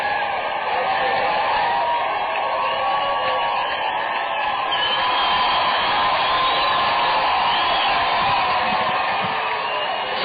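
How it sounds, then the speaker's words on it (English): A baseball crowd at Dr Pepper 7-Up Ballpark in Frisco cheers and whoops as the mascot Deuce enters, a broad sustained roar of many distant voices that holds steady throughout. "Frisco's mascot, Deuce, introduced to the crowd here at Dr. Pepper 7-Up Ballpark, and they react to Deuce's entrance"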